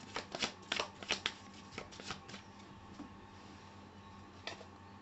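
Tarot cards being shuffled, heard as a series of soft, close riffles and taps in short bursts, fading into quiet handling with one more riffle near the end.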